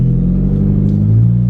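A 2005 Chrysler Sebring on a test drive with fresh transmission fluid, its engine rumbling steadily up close as it accelerates, with a slight shift in engine pitch near the end.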